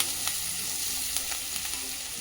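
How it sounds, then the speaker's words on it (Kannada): Hot oil sizzles and crackles steadily up close as a spice tempering with turmeric for barnyard millet chitranna is stirred, with a few soft scraping stirs of a spoon in the pan. "ಒಗ್ಗರಣೆಯನ್ನು ತಿರುಗಿಸ್ತಾ ಇದ್ದೀನಿ"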